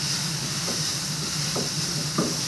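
Prawn roast masala stirred and frying in a pan, a steady close hiss of sizzling with a few soft scraping strokes of the spoon at intervals.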